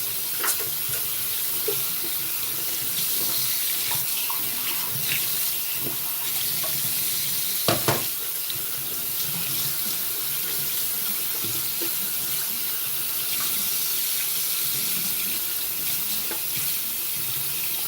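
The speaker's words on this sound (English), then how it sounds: "I'm going to rinse out my brush." Tap water runs steadily into a sink while a shaving brush is rinsed under the stream, a continuous close splashing hiss with brief louder gushes partway through.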